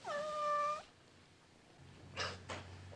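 A kitten gives a clear, tonal meow up close, followed after a pause by two short, fainter mews over a low hum, with no one talking.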